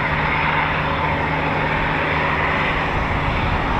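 Eurofighter Typhoon FGR4 jet at RAF Coningsby, a steady loud roar of engine noise that holds evenly throughout with no talk over it.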